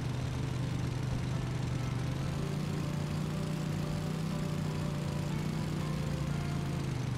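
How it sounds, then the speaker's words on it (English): Steady lawn mower engine drone from the Roblox Bloxburg video game, a continuous mid-low hum holding an even level throughout with no talk over it. "I'm going to go ahead and park this lawnmower now"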